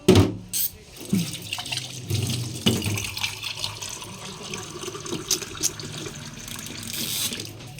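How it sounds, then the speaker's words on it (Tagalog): Water runs from a tap into a cooking pot for a mussel dish, a steady, close splashing stream that stays moderately loud throughout with small clinks of cookware. "Sige, lagyan natin ng tubig."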